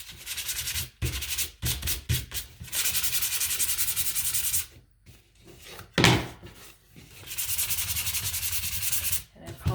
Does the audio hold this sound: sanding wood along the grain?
yes